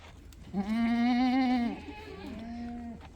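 A goat bleats on a Sojat breeding farm in Gujarat, one long wavering call followed by a shorter, softer bleat, close and clear with no talk.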